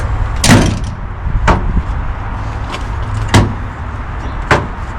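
A storage compartment lid on a Nucamp TAB 320 camping trailer shutting with a sharp close thump, followed by a few lighter knocks and clatters spaced out over several seconds, close and fairly loud with no speech.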